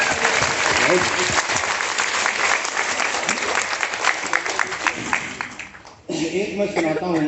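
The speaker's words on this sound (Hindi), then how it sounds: "बजाइए ताली" Audience applause at a talk session, dense and loud for several seconds, then briefly dipping to near quiet before clapping and crowd noise resume with voices mixed in.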